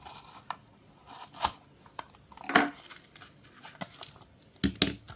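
A Hot Wheels Mario Kart toy package, the Flame Flyer with Bowser Jr., is unboxed close up. Cardboard and plastic make scattered crinkles, tears and snips at an uneven pace, with no talk.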